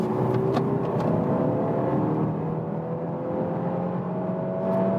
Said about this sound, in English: let's accelerate to 120. But let's go to the sport mode for that